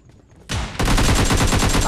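Shotgun fire in the mobile battle royale PUBG Mobile Lite: a sudden loud blast followed by a rapid run of close, punchy gunshots that fill the rest of the short moment.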